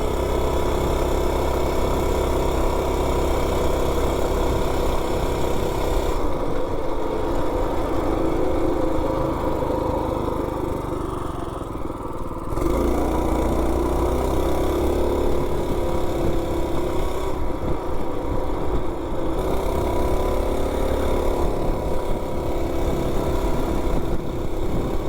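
A Coleman B200 mini bike's small engine runs steadily and loudly for the whole stretch, with a brief dip in the middle, like a lawn-mower-type motor fitted with a small sprocket.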